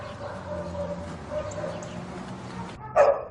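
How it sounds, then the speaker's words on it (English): A dog in a home barks and whines softly under low background sound, ending in a brief, louder yelp or bark near the end. "This dog is totally out of control."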